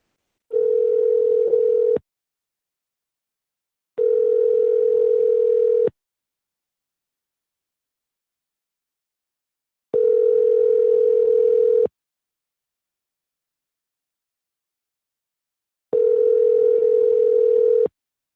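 A telephone dial tone sounds while a call is placed, four separate steady tones of about two seconds each with long silent gaps between them, loud and clear with no talk.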